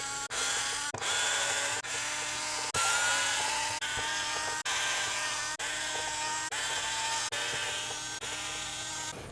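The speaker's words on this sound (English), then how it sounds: "take our 2mm speed tip and take out all these screws across the bottom of the factory chassis brace" Small power driver with a 2mm speed tip backing screws out of the factory chassis brace on a mini Kraton RC car, a steady high whirring drone in repeated bursts of about a second each, separated by brief pauses.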